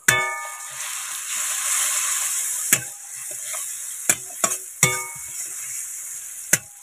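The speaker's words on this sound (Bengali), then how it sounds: "একটু ভালো করে নাড়িয়ে চাড়িয়ে কষিয়ে নেবেন, যাতে মশলাগুলো ভালোভাবে মিক্সড হয়ে যায় কড়ার মধ্যে" Spices, boiled potatoes and broccoli stir-fried in a wok, a steady sizzle under repeated sharp metallic clangs and scrapes of a spatula against the pan, close and alone.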